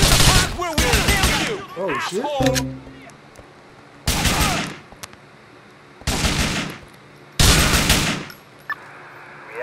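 Video game gunfire in GTA IV: several loud bursts of rapid automatic fire separated by short pauses, with a man's brief exclamation between them.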